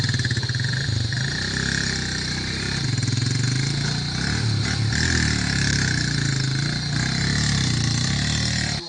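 Commercial motorcycle carrying mourners and a corpse from Bangem toward Babubok village, its engine droning steadily and loudly close by for the whole stretch, with rhythmic low putter and wind rush.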